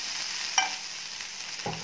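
A brief stir and a soft sizzle of onion and garlic frying in a pan, with a couple of quick scraping sounds against a low background hiss.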